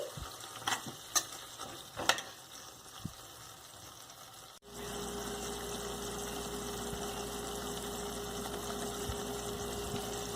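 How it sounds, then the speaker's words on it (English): Chopped tomatoes cooking down in a pan for pav bhaji, a few stirring scrapes early on, then a steady, even sizzle filling the rest with no talk. "Cook this tomato till it becomes mushy"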